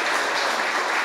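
A morning church audience breaks into steady, dense applause for the fathers present at a Father's Day gathering, a continuous wash of clapping without pauses.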